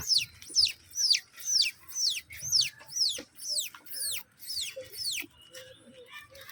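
A voice imitates a baby chick with a run of about a dozen high, falling peeps in steady rhythm, close and clear, then stops.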